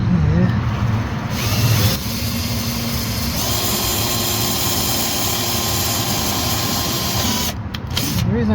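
A power drill countersinks a screw while a small wooden dinette is built inside a campervan conversion. A sustained mechanical whir of a few seconds sits within continuous loud workshop noise.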